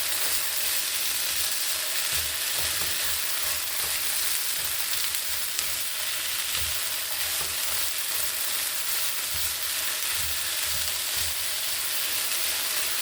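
Spam sizzles and fries steadily in a pan for a ration meal, a continuous crackling hiss with a soft stirring texture, close and fairly loud, with no talking.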